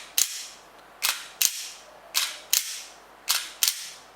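Gas blowback airsoft pistol cycling its slide, with a buffer spring in the blowback housing: seven sharp, crisp snaps fired at an irregular pace, each with a short hissing decay, loud and close with no speech.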